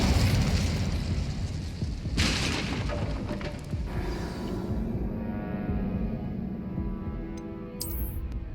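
A fire spell cast in Hogwarts Legacy, a loud sustained fiery roar with a sharp burst near the start, rumbling continuously against a dense game backdrop.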